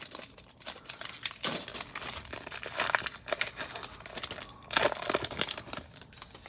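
A 2018 Score football card retail pack is torn open, with continuous close crinkling of the foil wrapper and sharper rips and crackles in bursts, alone without talk.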